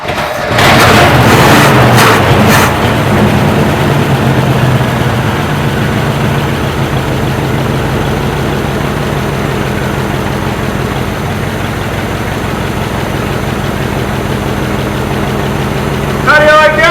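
A 1968 Chevy C10 engine, parked for 16 years, cranks with a few rapid chugs and then catches into a steady, loud, rumbling idle that carries on throughout, with voices briefly heard over it.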